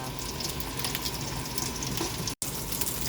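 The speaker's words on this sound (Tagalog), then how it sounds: "kumukulo na ang ating isdang pinakakuluan" A steady bubbling, sizzling roar of fish boiling hard in a pot, continuous and close, with a brief cut near the end.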